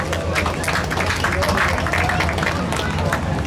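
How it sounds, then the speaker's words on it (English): Fans clap for young Mini Wedge racers at Mount Pleasant Speedway in Michigan, an even spread of applause mixed with crowd murmur and engine rumble, with a voice speaking over it. "Fans, let's give the kids a nice round of applause."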